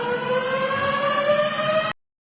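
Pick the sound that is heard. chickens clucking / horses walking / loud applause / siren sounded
siren sounded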